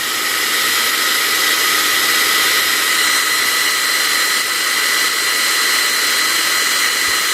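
Electric drill spinning freely at about 9300 RPM, a steady, loud high-pitched whine with an even hiss that holds unchanged from start to finish, no voices.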